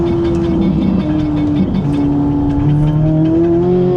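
A 670 hp Corvette engine holds high revs with a steady, loud tone that climbs gradually, with a second engine harmonic rising underneath, close and continuous with no talk.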